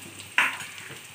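Sliced onions and potatoes hit hot oil together in a pan, giving one brief bright sizzling burst that quickly fades into a low crackle.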